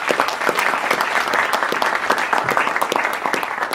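Audience applause at a Nelson Mandela Foundation event: dense, loud, continuous clapping from a crowd throughout, with no talk over it.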